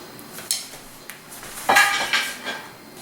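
A cooked strip steak is set onto a dinner plate already holding mashed potatoes, giving a few close, sharp ceramic clinks and clatters with cutlery over a quiet room.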